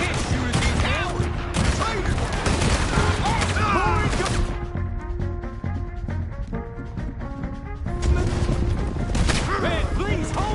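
Gunfire in Red Dead Redemption 2, with dense volleys of rapid shots, cracks and booms coming in heavy bursts, a brief lull in the middle, then renewed firing mixed with shouting voices.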